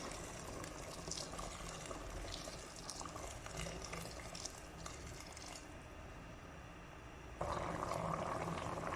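Water poured into a pot of oxtail, a steady watery rush and splash lasting the whole stretch, fairly quiet and close, growing louder for the last moments as the pour strengthens.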